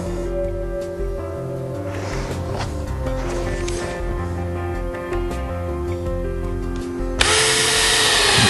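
Power drill driving 5/8-inch screws into L brackets while assembling a Tilt-Away Murphy wall bed, a close, steady whirring drive that ends in a louder burst of the drill near the end, with no talk.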